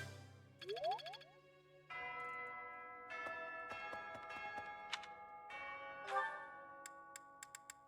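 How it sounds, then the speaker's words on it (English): Church bells in Fire Emblem ring in a tuned, melodic sequence of layered chimes with long ringing tails, clear and alone, ending in a few bright high dings. "I like how the bell ringing is just like a remix of some of the old Fire Emblem music that they had already used."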